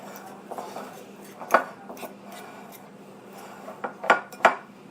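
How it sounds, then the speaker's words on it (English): A baked potato is mashed in a bowl, with soft scraping and a few sharp clinks of a utensil against the bowl, close by and fairly quiet, with pauses between strokes. "you're going to mash the potato up"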